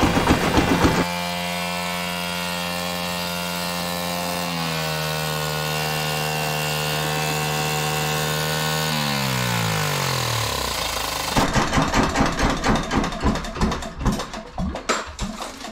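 A diesel trench compactor fitted with a military surplus engine runs loudly with a steady droning hum, the pitch drops as it slows down, then it shifts into a rough, rhythmic chugging clatter near the end, no talking.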